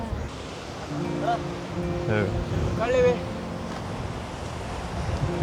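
Ocean waves wash onto Om Beach in Gokarna under a steady cool wind, a broad continuous rush with a person talking over it.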